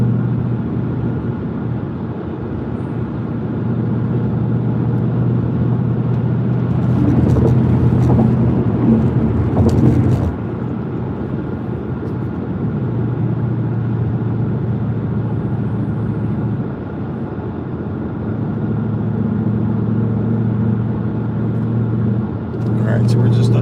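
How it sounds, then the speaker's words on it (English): A Ford Mustang cruises on Interstate 95, a steady low road rumble and engine drone filling the cabin while someone talks throughout, with a few brief louder swells of passing traffic. "we're just on 95 south cruising, 95 north, right?"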